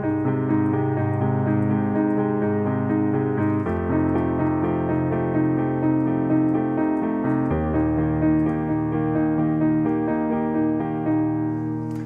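Piano plays the accompaniment pattern of a song, steady repeated eighth-note chords shifting harmony every few seconds, sustained and clear with no talking.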